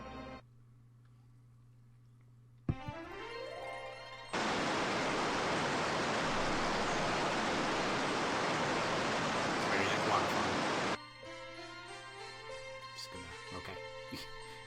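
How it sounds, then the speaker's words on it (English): Steady broadband waterfall rush in the Little Princess Marl (Oukoku no Ningyou Hime 2) video game, loud and continuous for several seconds between melodic game music, then cutting off abruptly. "Just like how the waterfall sound effect just cut off there."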